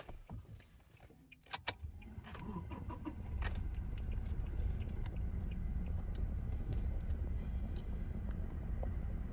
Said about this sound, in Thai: เดี๋ยวลองสตาร์ทดูเลยครับ